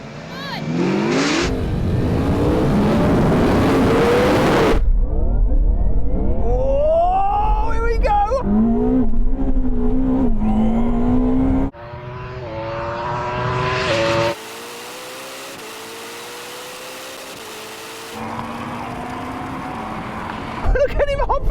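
Yamaha R1 motorcycle, Ferrari SF90 and Porsche Taycan Turbo GT drag racing: loud engine and motor whines climbing steeply in pitch through repeated acceleration runs, with abrupt cuts between passes.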